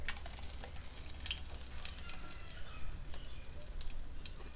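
Ground ginger masala for ginger prawns hits hot oil and sizzles steadily, a close, continuous crackle dotted with small sharp pops and spits, with no voices.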